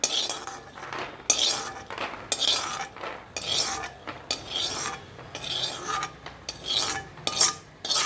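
Fried peanuts being scraped from a pan onto a plate, a run of rhythmic metal-on-metal scraping and rasping strokes with light clinks, close and fairly loud, with no talk over it.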